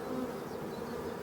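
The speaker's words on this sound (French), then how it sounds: "normalement un essaim qui vient de quitter sa ruche" A swarm of honeybees that has just left its hive and settled in stinging nettles in the evening makes a continuous, dense, even buzz, close and moderately quiet.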